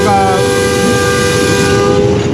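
A PHA-20 diesel locomotive sounds a sustained, harmonically rich horn, heard loud and close from the cab over the steady rumble of the moving train in Punjab.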